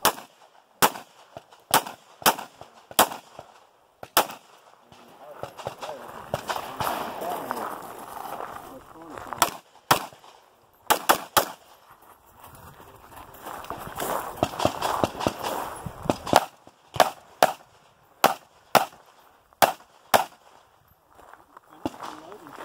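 Gunshots at an IDPA shooting match ring out as sharp, loud cracks, some in quick pairs and others spaced apart, across the whole stretch, with voices and movement in between shots.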